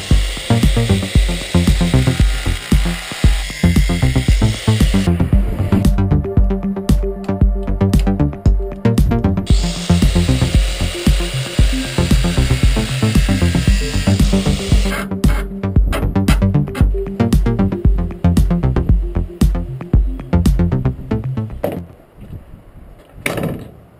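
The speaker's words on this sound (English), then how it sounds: "I've cut the head off the bolt and cut a groove in the top" Power tool cutting the head off a Ford Pinto SOHC head bolt, a loud close grinding and chattering roar with a high whine in two long stretches, ending in a fading rattle.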